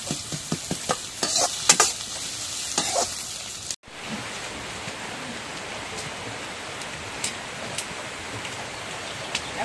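Onion and garlic frying in a pan while a spoon stirs them: a steady, close crackling sizzle with scraping strokes and clinks early on, then a dense even hiss after a brief cut.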